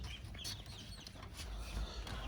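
Faint peeps and soft clucking from three-week-old runner ducklings and chicks crowded in a brooder, with light rustling and a brief flutter of wings, quiet and close.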